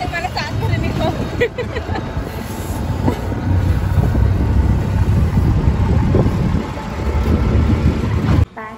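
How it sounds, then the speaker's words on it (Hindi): An auto rickshaw carries five people through cold wind on a Rajasthan road between Jaisalmer and Jodhpur, with a constant loud rumble of engine and wind buffeting the microphone, while voices chatter underneath. "अभी हम लोग ऑटो राइड में पांच लोग बैठे हैं तो इतना ठंडा हवा है इधर"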